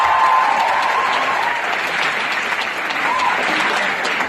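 An audience applauds continuously, a dense and even wash of many hands clapping at close range that holds steady from start to finish.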